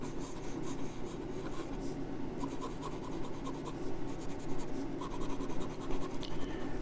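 Delta 39+1 celluloid fountain pen nib writing on paper, a steady close scratchy rasp with a faint singing feedback tone, heard over a constant background hum from humidifiers.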